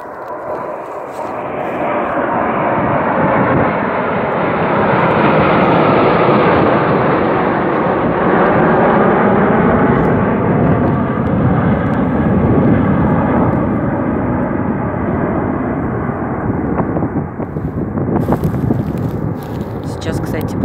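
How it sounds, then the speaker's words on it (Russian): Airplanes fly low over the town of Klin during a parade, a loud continuous roar of jet engines swelling and fading across the whole stretch, with wind buffeting and people talking underneath. "А над городом Клин летят самолеты."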